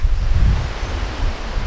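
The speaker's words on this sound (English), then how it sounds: "a windy day today" Strong gusting wind on a windy day at a picnic site in Satara, rushing and buffeting loudly close to the microphone in a brief, steady roar.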